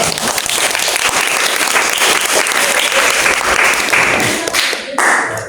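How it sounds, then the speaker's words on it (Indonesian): A vocational school class breaks into loud, dense applause for a student group after its presentation. Many hands clap steadily and close by, fading slightly near the end. "Wah, tepuk tangan untuk kelompok 2."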